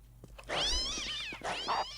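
Cats in the video game Postal 2 meow, one drawn-out, wavering cry followed closely by a second shorter meow, loud and close with nothing else over them.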